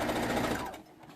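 Sewing machine running steadily as it back stitches a bag seam in a home sewing room, a busy mechanical whir that holds for most of the second, then drops away to quiet.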